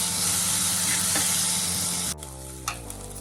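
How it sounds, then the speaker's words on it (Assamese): Spice paste for mutton frying in a clay pot while being stirred, giving a loud continuous sizzle and hiss that drops sharply near the end, leaving a quieter crackle and a single scrape. "পেষ্ট দি পিনে লৰাই থাকিম এয়া চাই লওক মই লৰাই আছোঁ এয়া অলপমান ফ্ৰাই হ'ব দিম"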